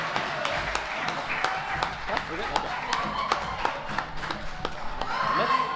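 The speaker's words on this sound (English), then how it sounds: "Round of applause." Audience applause at a National Honor Society induction and awards ceremony, a sustained wash of many hands clapping with occasional louder claps, under a murmur of voices and scattered cheering.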